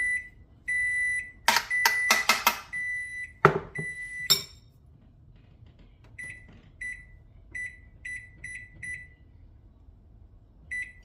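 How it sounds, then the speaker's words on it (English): A kitchen timer beeps in short repeated bursts, interrupted by a few loud clattering knocks, then the beeping resumes in evenly spaced pulses. "So that was a timer for my,"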